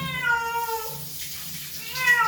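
A cat meows during a bath, drawn-out wavering cries close by over a steady wash of running water from a tap.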